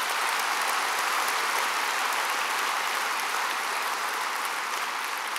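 Dense, steady applause from a large keynote audience at the InBound 2013 conference fills the whole stretch, loud and even, with no voices on top.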